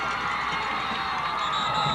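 A stadium crowd roars and cheers steadily at the kickoff of a 1991 Class I high school football championship between Somersworth and Laconia, a dense, continuous wash of excited voices with no break.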